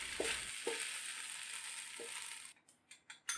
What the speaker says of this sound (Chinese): 煸炒均匀后盛出备用